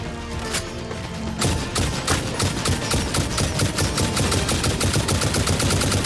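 Rapid gunfire rattles almost continuously in the Satisfactory video game as a player shoots at bugs, with dense, loud bursts of shots running close together from start to finish.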